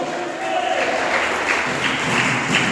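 Broad clapping from a church congregation during a sermon, moderately loud and continuous, with some voices mixed in.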